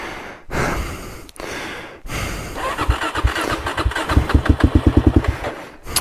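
An adventure motorcycle on a solo mountain ride is kicked over in several cranking bursts, then catches and idles in quick, rough pulses, loud and close with no talking.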